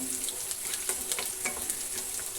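Chopped garlic frying in ghee, a steady close sizzle with soft crackles and faint stirring scrapes throughout.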